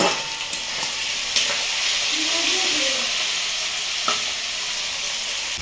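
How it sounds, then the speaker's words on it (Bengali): Onions fry in hot oil for biryani, producing a loud, constant sizzle and hiss close by, punctuated by a few light stirring knocks. "বেরেস্তা এখন ভাজা হোক।"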